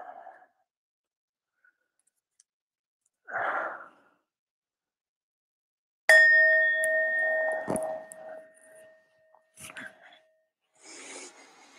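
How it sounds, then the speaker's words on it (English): A meditation bell struck once, ringing out clearly with a long sustained tone that slowly decays, preceded by soft breaths and followed by faint rustles and a quiet voice. "Ring the bell."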